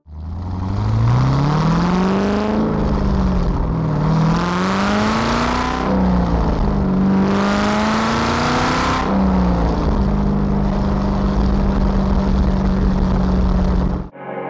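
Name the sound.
LS3 V8 swapped Mazda ND Miata engine running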